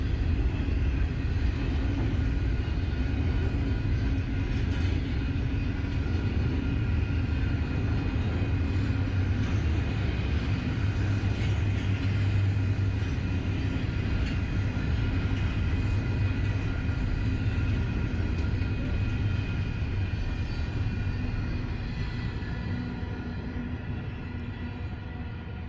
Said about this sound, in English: a perfect chance to just stand and watch a train pass by